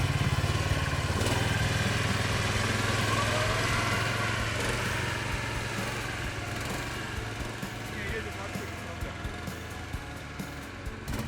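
A cheap homemade snowmobile grinds through deep snow on a slope, its small engine droning steadily and loudly up close, then easing somewhat as it labors along.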